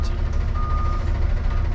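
An Amazon delivery truck backing up sounds a steady high reversing beep, close and clear over a constant low engine rumble.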